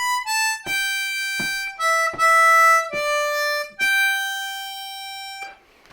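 A G harmonica plays the closing phrase of Auld Lang Syne, a run of clear, sustained reedy notes with short breaks between them, loud and close with no talking.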